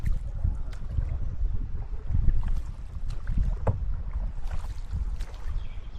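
A boat moves across a lake beside a resort with low rumbling wind and water sounds, soft splashes and knocks recurring now and then, no talking.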